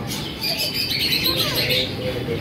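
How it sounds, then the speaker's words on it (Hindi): A parrot calling amid caged birds, including pigeons, at a busy bird market; bright chirps and squawks ride over a constant crowd murmur, with voices nearby. "मिट्टू बोल भी रहा है, मिट्टू आप लोग सुन सकते हैं"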